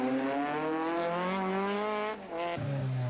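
Ford Escort Mk V rally car on a wet stage rally, engine revving high and rising steadily, wheels spinning for grip, then a brief dip and a shift, loud and close with no talk.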